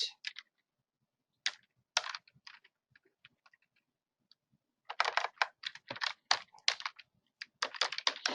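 Someone types a password on a computer keyboard: bursts of quick, crisp key clicks close up, a short pause in the middle, then a denser run of keystrokes.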